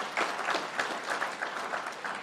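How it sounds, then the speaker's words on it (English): Brief, moderate audience applause at a city mayoral event launching an infrastructure academy, a steady patter of many hands without talk over it. "Give that a round of applause."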